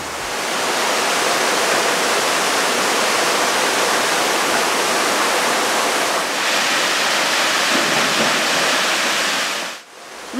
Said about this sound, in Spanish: Solo oyendo el trinar de pájaros y el correr del agua.